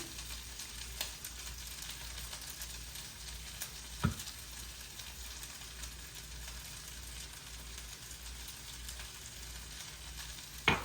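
Fried rice with butter sizzling steadily in a hot pan, a constant close frying hiss with a few brief clinks or scrapes of a utensil, no voices.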